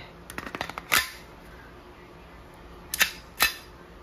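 Shots from a Umarex Glock 17 Gen 5 CO2 airsoft pistol firing 5.95 mm steel BBs: a quick run of small clicks, then three sharp, loud cracks, two of them close together near the end, separated by quiet.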